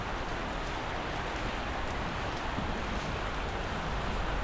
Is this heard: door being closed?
no